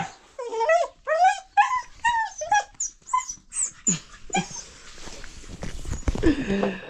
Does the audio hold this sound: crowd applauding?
no